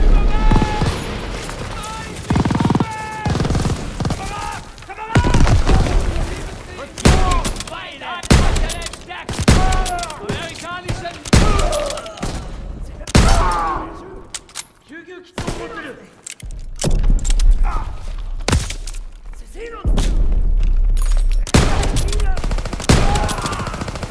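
Machine gun fire and explosions in Call of Duty WWII during the D-Day beach landing: loud, rapid automatic bursts and repeated booms near and far, with shouted voices over the battle.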